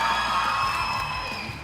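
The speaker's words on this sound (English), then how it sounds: "Let's give him a round of applause." A large crowd at a Philippine Mobile Legends esports league match cheers loudly, with sustained whoops and shouting that fill the whole moment and fade slightly toward the end.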